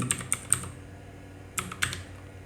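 Someone types a command on a computer keyboard for the Windows command prompt: a few quick clicky keystrokes, a pause, then two more taps, close and alone.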